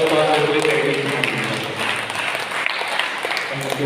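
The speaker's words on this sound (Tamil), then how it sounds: "கைத்தட்டி நம்முடைய பாராட்டுகளை சிறப்பாளர்களை தெரிவிக்கின்றனர்" Applause from a parish congregation inside a church, steady dense clapping that fills the whole stretch at moderate loudness, with faint voices mixed underneath.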